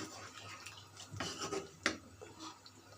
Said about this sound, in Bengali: এখন আমি সবগুলো কষিয়ে নেব ভালো করে